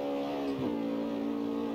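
A high-revving Mustang engine from the video game CarX Street holds a steady, buzzing drone with dense harmonics, loud and continuous with no talk over it.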